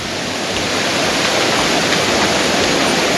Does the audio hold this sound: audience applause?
no